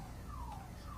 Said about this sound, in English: somebody just set off their alarm.